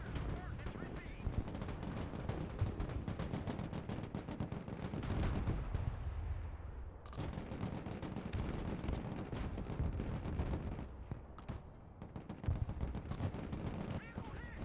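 Mortar fire and heavy gunfire in the combat video game Broken Arrow, with dense continuous bursts of shots and explosions and a brief lull midway, plus radio-style voices faintly under the din.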